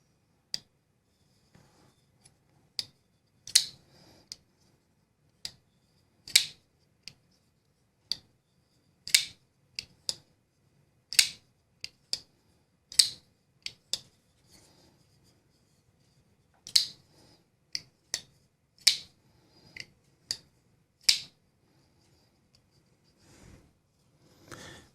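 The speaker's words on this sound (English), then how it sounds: "Makes a kind of a loud clackety noise getting over that lock bar." Sharp clacks from a folding knife blade snapping over the lock bar, repeated irregularly roughly a dozen times, close and fairly loud in a quiet room with no talking.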